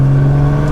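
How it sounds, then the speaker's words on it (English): Nissan GT-R R35 twin-turbo engine pulling at half throttle in sixth gear, a loud steady low drone with constant tone through a very short span, heard alone. "Half throttle in 6th gear, all you feel is the turbo lag"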